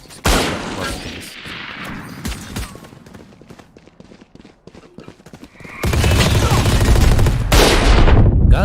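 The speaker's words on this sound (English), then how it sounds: "Gunshots already going wild and bomb site." Gunfire in the tactical shooter Valorant during a tournament match, dense bursts of rapid shots and a loud sustained volley near the end, with faint background voices.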